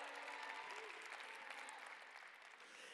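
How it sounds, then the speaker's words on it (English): Continuous applause from a chapel audience at a university service, a broad steady wash of clapping heard at a moderate distance, fading slightly toward the end. "Let's give him a round of applause."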